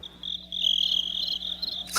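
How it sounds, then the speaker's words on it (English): Crickets chirp as a sound effect, a steady high-pitched trill close and clear for about two seconds, ending with a brief burst. "Crickets."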